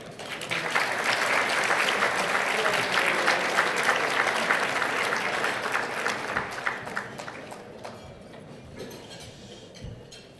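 Audience applause welcoming a speaker onstage at the VX 2018 utility industry conference in Los Angeles, a sustained roomful of clapping that holds steady for several seconds, then thins and tapers off toward the end.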